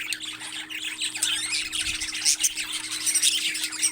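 Parrot giving loud, harsh squawks and chirps, close by and nearly continuous, with a steady low hum underneath and no one speaking.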